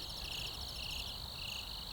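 Crickets chirp in a steady, dense pulsing trill that runs unbroken throughout, fairly close and even in level, with a low background rumble beneath.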